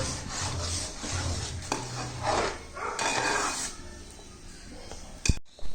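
A spoon scrapes and rubs steadily through thick jackfruit halwa in a pan, a continuous close rasping with a few sharper knocks near the end.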